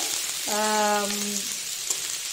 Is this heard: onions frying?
yes